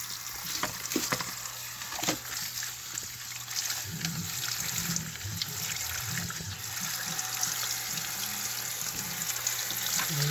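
Aquarium filter media for an HOB canister are rinsed under a running tap, with water splashing steadily close by and occasional squelching of the wet media.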